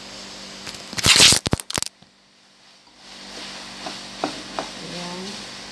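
Quick scraping and clattering of pasta being stirred with pesto sauce in a pan, a loud burst of rapid strokes followed by quieter scattered knocks and soft stirring sounds against a faint background hum.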